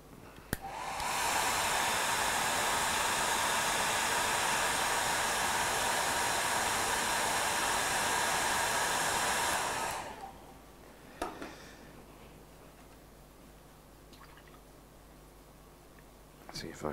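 A hair dryer blowing on wet paint runs as a loud, steady close-up whoosh for about nine seconds, then switches off, leaving faint room noise and a couple of small clicks.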